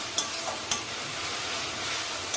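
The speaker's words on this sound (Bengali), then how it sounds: "এবার মশলাটাকে খুব ভালোভাবে কষিয়ে নিতে হবে" Thick spice paste of ginger and garlic stir-fried in a pan, giving a steady close sizzle and a few sharp scrapes of the spoon against the pan.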